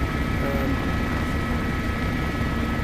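Steady, loud helicopter rotor and engine drone in the X-Plane 12 flight simulator, constant and unbroken throughout with no talk.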